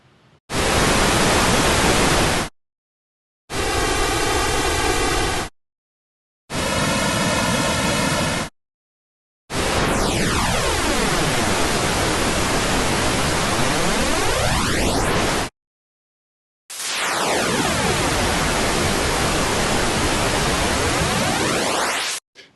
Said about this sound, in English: So this is a comb filter.